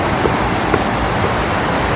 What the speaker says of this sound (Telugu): చాలా ఎక్కువ సౌండ్ వస్తుంది వాటర్ది